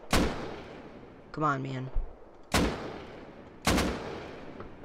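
Pistol gunshots in the survival video game Rust: three sharp, loud cracks spaced about a second apart, with a man's short remark between the first and second shots.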